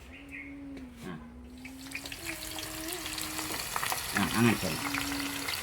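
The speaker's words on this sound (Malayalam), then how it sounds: "ഉള്ളി വറുത്തെടുക്കുക, എണ്ണ ഒഴിക്കാട്ടെ" Onions frying in oil for chicken biryani make a continuous sizzle under a steady tonal hum, with water-like bubbling; a person speaks briefly once.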